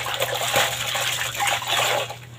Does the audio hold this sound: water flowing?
yes